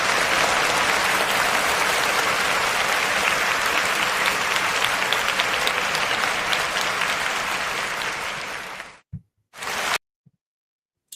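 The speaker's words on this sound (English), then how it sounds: "She deserves a round of applause." Sustained, loud audience applause at a live business show, steady clapping from a crowd that fades out near the end, followed by a brief burst of noise and silence.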